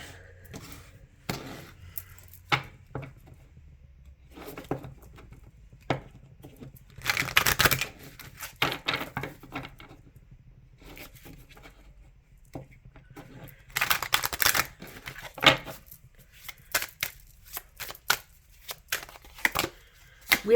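Oracle cards are shuffled by hand in quiet bursts of papery riffling and flicking, with a few louder clustered shuffles around the middle and near the end and short pauses between them.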